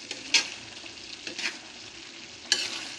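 Liver and carrots cook in a pan for an Ilocos-style higado, giving a steady low simmer and bubbling hiss with a few brief clinks or stirs scattered through.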